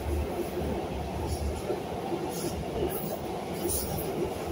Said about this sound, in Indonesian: Itu keretanya di atas.